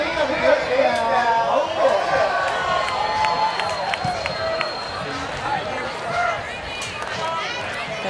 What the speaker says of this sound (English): Got a good crowd here filling in around center court.